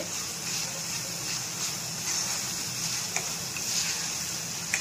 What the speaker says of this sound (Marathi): आता आपण हा कांदा थोडासा लाल करून घेऊया आपण अजून